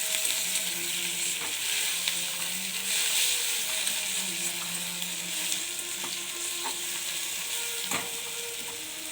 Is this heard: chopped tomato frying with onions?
yes